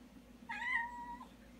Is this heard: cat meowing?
yes